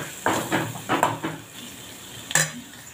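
Onion and peanut paste cooking in a pan for an aubergine dish, with soft sizzling under a few clinks and scrapes of a spoon stirring against the pan, fairly quiet and close.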